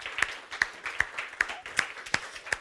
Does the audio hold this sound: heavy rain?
no